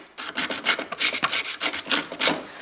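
Paint is scratched and sanded off the steel around a Toyota Prius brake pedal, producing quick rhythmic rasping strokes, close and fairly loud, with no voice.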